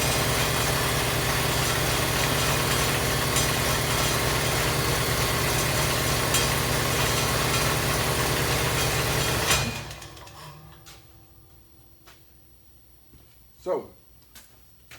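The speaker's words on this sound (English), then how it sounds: "Well, the compressor came on." Air compressor running in a garage workshop during piston ring file fitting, a loud steady mechanical drone with rhythmic pulsing that cuts off abruptly partway, leaving quiet room noise and a brief clunk.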